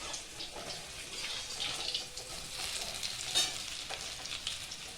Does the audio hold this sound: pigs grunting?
no